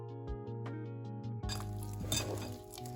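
Ragi, banana and brown sugar paniyaaram batter is stirred in a bowl, a utensil clinking and scraping against the dish after a brief quiet start, close and fairly steady over a low background hum.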